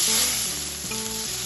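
Shrimp frying in hot mustard oil in a wok gives off a loud, steady sizzle with no speech.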